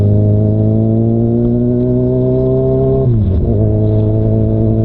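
A motorcycle engine drones loudly and steadily during a ride near Kaybiang, its pitch climbing gradually before dipping and recovering in a brief shift, with no talk.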